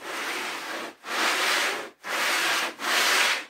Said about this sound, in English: I can sand that.